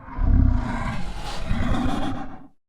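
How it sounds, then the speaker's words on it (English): A low creature beast vocal from a sound effects library, a deep growling roar that swells, dips briefly, then rises again before cutting off, loud and close with no talking. "The first one is a creature beast voiced in the low"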